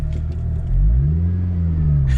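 A 2003 Acura RSX Type-S with a drive-by-cable throttle revs up, its engine note climbing from a steady idle into a loud, rising rumble that holds near the car with no talk.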